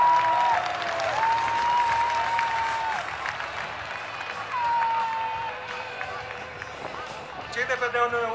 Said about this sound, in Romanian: Final! Aplauze!